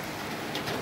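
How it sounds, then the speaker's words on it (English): Steady rain falling in Aparecida de Goiânia, Goiás, a dense, even patter of drops that holds at a constant level throughout the short clip, with no voices. "Raining."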